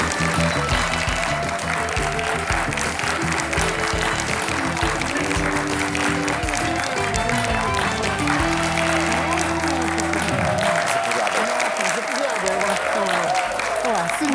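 A studio audience on a Bulgarian Saturday-night TV talk show applauds a singer: loud, dense, continuous clapping over upbeat music, with a voice briefly heard in the mix before the music fades near the end.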